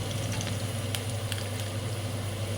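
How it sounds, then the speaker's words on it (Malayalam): Battered cauliflower pieces for gobi manchurian frying in hot oil, a steady dense sizzle and crackle close by, with a few brief pops rising above it. "നല്ലോണം എണ്ണയിൽ ചൂടാകട്ടെ മറിച്ചിടാം"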